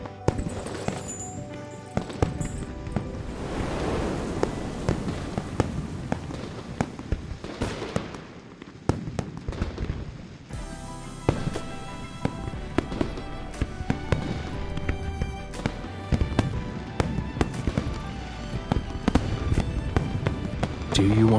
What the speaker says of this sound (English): Do you want to set off fireworks in Hungling City?